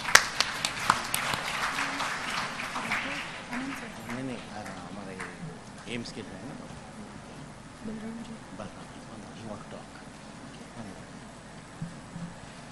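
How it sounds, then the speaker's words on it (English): Conference audience applause welcoming a speaker to the stage, a short burst of clapping at the start that fades quickly, followed by a voice talking over quiet room noise. "Please welcome her with a huge round of applause."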